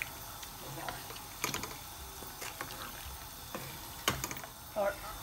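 Spoon stirring gobhi gosht, cauliflower and meat with oil in a pot, giving scattered clinks and wet scraping strokes at irregular intervals over a low sizzle, fairly close.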